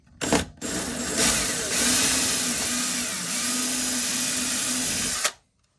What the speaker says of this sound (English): So I'm just going to drill the hole with the supplied drill bit.